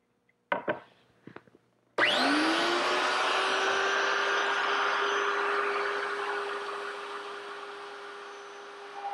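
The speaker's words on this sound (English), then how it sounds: "all we have to do now is run our workpiece along the cutter and we'll remove a sixteenth of an inch per pass" A router cutter takes a sixteenth-inch pass along a wooden workpiece run against the fence, making a loud steady whine that starts abruptly after a few knocks and holds, slowly fading toward the end.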